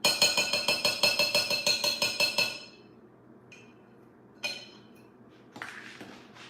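Cutlery clatters in a rapid, steady rattle for about two and a half seconds as a spoon is fetched from a drawer, followed by a couple of separate sharp clinks, with no talking.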